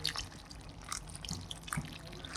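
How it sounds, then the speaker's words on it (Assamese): Water is poured into a pan of duck meat curry, making a soft, close trickle with light dripping and splashing throughout. "অলপমান এনেকৈ পানী দি দিম"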